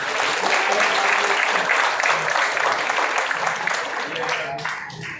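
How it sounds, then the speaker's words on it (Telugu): Loud, sustained applause from an audience at a Telugu book launch event, a dense wash of clapping lasting throughout with some voices mixed in. "ఒకసారి సాయిబాబు పెళ్లి కావాలని గట్టిగా చప్పట్లతో తీరుద్దాం"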